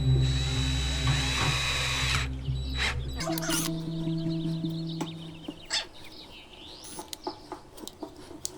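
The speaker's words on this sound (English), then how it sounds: "Now I'll drill the hole for the temporary button." A loud power drill whirs steadily for a few seconds, drilling a button hole in a Matchbox Jeep Gladiator model, then winds down, followed by scattered clicks and light knocks.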